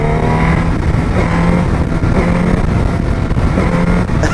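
A Suzuki GSX S1000 GX sport tourer motorcycle engine pulls hard under acceleration, a loud, steady, close engine roar with rising harmonics, no talk over it.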